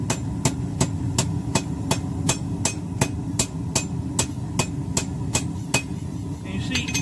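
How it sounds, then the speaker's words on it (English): Hammer strikes a rivet on the edge of an anvil while forging a war hammer, a fast, even series of about eighteen sharp metallic blows, close and loud, with no talking. "We take it to the edge of the anvil, and we're just going to kind of roll it."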